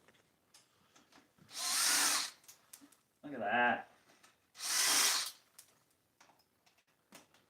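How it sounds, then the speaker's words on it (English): A power drill whirs in two loud bursts of about a second each during a front tire replacement on a 12-year-old Kawasaki KX250, with someone speaking briefly between them and faint clicks around. "I should use the drill."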